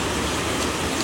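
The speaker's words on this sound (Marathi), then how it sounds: "बाहेर इतका जोराचा पाऊस आहे" Heavy monsoon rain pours down outside, a steady, dense wash of broadband hiss with no pauses, close and fairly loud throughout the short stretch.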